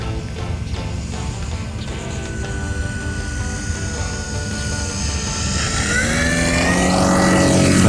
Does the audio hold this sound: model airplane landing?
yes